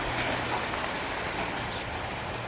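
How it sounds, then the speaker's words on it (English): Rain pelting down outdoors beside a firepit cookout, a steady, dense hiss of drops striking surfaces with no gaps, alone and fairly close. "We got the rain pelting us."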